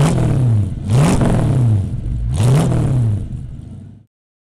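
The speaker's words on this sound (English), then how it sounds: "we're going to demonstrate a Ford Mustang with its iconic 5-liter V8." A synthesized Ford Mustang 5-liter V8 engine sound plays through a Tesla Model 3, a loud sequence of about three revs, each swooping up and falling back, then cutting off abruptly.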